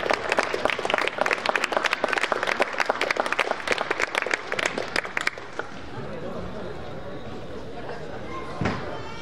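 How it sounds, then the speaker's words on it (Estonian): Applause for the winners at a youth swim-and-run race awards ceremony, a burst of crisp clapping lasting about five seconds, then fading into quieter room noise. "aplaus võitjate"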